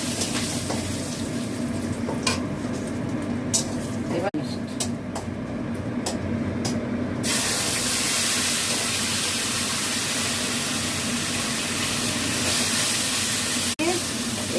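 Mustard seeds, curry leaves and ginger paste sizzling in a hot pan, a steady close frying hiss that grows louder and denser partway through, with occasional clinks of a utensil.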